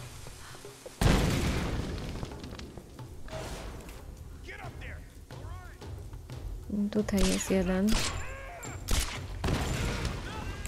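An explosion in the video game Tomb Raider (2013) hits as a sudden loud boom with a rumbling tail, followed by scattered gunfire and combat noise, while a player talks over the action.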